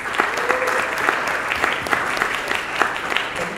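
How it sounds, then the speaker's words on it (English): An audience at a talk on operating a cannabis business breaks into sustained applause, a dense, steady clapping of many hands that fills the room with no voices rising above it. "please give a round of applause for Tamar"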